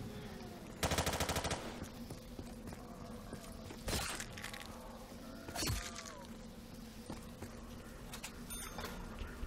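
Rifle fire in the Black Ops 3 remastered Town map, with a short rapid burst followed by a few sharp single shots at moderate level over steady background game ambience.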